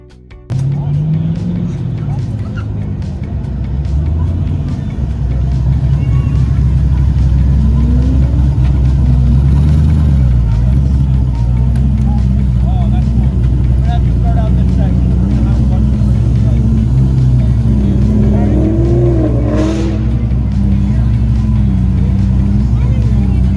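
A Nissan Skyline GT-R R33 with an RB26 engine idles at a cars-and-coffee show, a steady, loud, low engine drone that holds throughout while a person talks over it.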